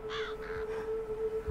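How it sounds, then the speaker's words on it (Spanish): Crows caw in the video game Call of Duty: World at War, set in wartime Stalingrad, with two harsh calls close by over a steady low background hum. "Hay cuervos."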